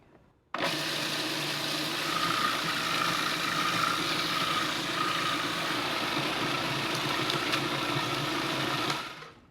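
A food processor blends kale pesto while olive oil is slowly poured in, a loud, steady motor whir that starts abruptly, holds evenly for about nine seconds, then cuts off, with no talking.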